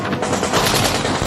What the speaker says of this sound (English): Timothy's men engaged the approaching Germans, and a ferocious firefight broke out.